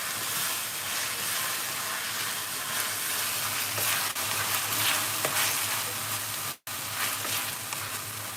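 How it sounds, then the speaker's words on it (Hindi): Soybean masala pasta stirred in a hot pan gives a steady close-up sizzle and frying hiss with scraping spoon movements, continuous and loud throughout with one brief break near the end. "और सभी को इस तरह से मिक्स कर लेंगे।"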